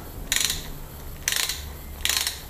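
A ratchet wrench tightens a pedal on an e-bike with a Bosch Performance motor, giving three short, loud bursts of rapid ratcheting clicks with quiet pauses between them.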